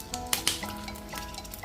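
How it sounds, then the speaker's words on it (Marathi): Chillies stuffed with potato are laid into a pan of oil, giving a soft close sizzle broken by a few light clicks and taps of cookware, with no voices. "पॅनमध्ये तेल घालायचं आहे आणि आपल्याला ह्या मिरच्या यामध्ये ठेवायच्या आहेत"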